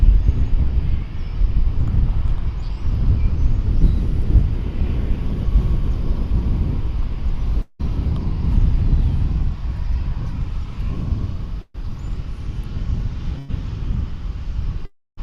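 A departing airliner takes off from a runway at Dallas/Fort Worth airport, bound for Louisville, a steady broad low roar with wind buffeting held loud and constant throughout, broken by a couple of brief dropouts.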